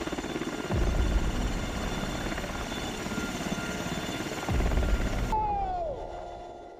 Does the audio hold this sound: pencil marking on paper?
no